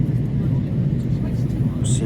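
Steady, loud cabin roar fills a passenger airplane on a seven-hour nonstop flight from Incheon to Jakarta, a constant low broadband drone with no breaks.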